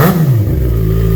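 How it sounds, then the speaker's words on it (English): A 2009 Yamaha FZ6R four-cylinder motorcycle with a Two Brothers exhaust revs loud and close, a brief throaty engine roar that drops in pitch as the throttle eases off. "Because it is a 4-cylinder motor, it sounds aggressive, especially with the Two Brothers pipes."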